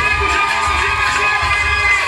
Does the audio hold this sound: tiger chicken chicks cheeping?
no